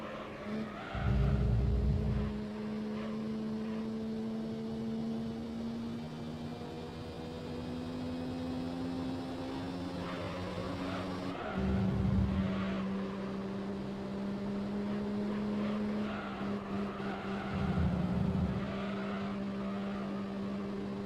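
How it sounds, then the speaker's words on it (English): A car in Gran Turismo 3 drives and corners, its engine a steady tonal drone that shifts pitch with gear changes, broken by three loud bursts of tire squeal and skidding in the turns, continuous for about twenty seconds with no talking. "I love the way this car turns."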